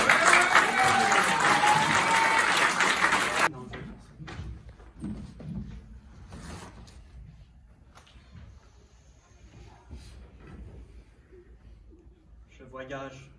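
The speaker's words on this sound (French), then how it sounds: "Applaudissez la poétesse." An audience at a French slam poetry competition gives loud, dense applause for a poet for about three and a half seconds, then it stops abruptly. Quieter room noise and faint movement follow.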